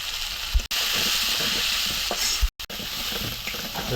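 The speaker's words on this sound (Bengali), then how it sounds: "পেঁয়াজ আর টমেটো দিয়ে ভুনা করব।" Onion frying in a pan sizzles steadily and loudly up close, broken by a few short gaps and occasional stirring clatter, with no talking.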